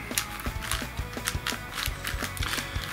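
A MoYu AoShi GTS M 6x6x6 magnetic speed cube, new and still stiff, being turned up close, giving quick, repeated plastic clacks and ratchety clicks in an uneven, busy rhythm.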